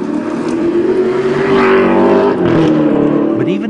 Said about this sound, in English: take us to the old test track that still sits atop an old factory for a short spin in this limited edition Alfa Romeo